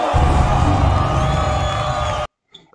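A concert crowd roars and cheers loudly and continuously within a played rap track, a dense wash of whoops and shouts that cuts off abruptly near the end.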